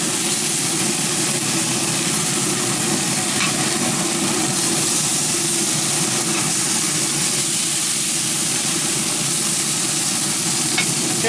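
Teriyaki chicken sizzles on a Traeger smoker grill while being basted with teriyaki sauce, a loud, continuous crackling hiss close by with faint scraping and clicks and no voices.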